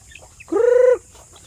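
A hen with chicks gives a single clear, nasal cluck, close and loud, against quiet farmyard background.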